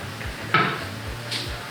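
A spoon stirs menemen, Turkish eggs with tomato, in a pan: soft scraping strokes with a sharper clink near the start, over a faint sizzle, with no voices.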